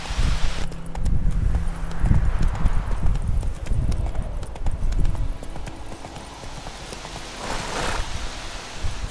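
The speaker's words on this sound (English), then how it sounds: "Get on the horse." Rapid hoofbeats of a galloping horse in The Witcher 3 pound continuously under rustling, with a brief whinny-like cry near the end.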